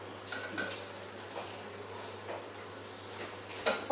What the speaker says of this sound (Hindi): इसमें थोड़ा सा पानी डालेंगे